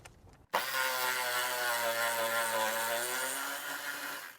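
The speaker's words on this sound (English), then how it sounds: "we're going to undo these two 10mm bolts underneath" A 10mm bolt underneath a Nissan Patrol is undone with a 10mm socket on a power tool, one steady whirring run of about four seconds, close and fairly quiet, that slows slightly toward the end.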